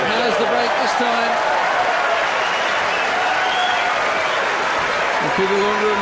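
Crowd applause at the 2002 Key Biscayne tennis final between Agassi and Federer: steady, dense clapping fills the whole stretch beneath a commentator's voice.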